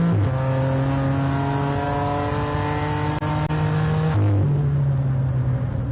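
Race cars at Mid-Ohio, including a BMW, roar past in a World Racing League endurance race. Loud, steady engine drone, with a gear-shift dip partway through and no talk.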